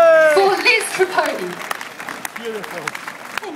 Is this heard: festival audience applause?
yes